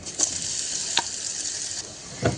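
Finely ground chili sautéing in a hot kadhai of oil with cumin seeds and turmeric, a steady bright sizzle with a few stirring scrapes near the start, middle and end.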